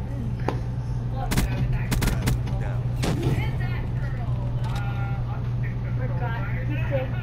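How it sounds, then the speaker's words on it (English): Call of Duty Black Ops 3 gunfire and blasts, several sharp loud shots and impacts in quick succession followed by rumbling game noise, with a voice talking over it. "Took a rocket launcher to the face."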